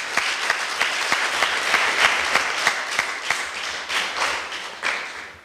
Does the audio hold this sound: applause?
yes